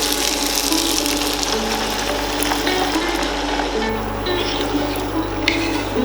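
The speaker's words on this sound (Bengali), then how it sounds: "এর মধ্যে 1 কাপ পরিমাণ জল দিয়ে দেব" A cup of water is poured into a pan of mixed vegetable curry, giving a loud, close, steady gushing splash that runs unbroken for several seconds with no talking.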